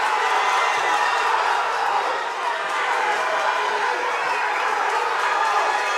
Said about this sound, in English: As you can hear the crowd right now.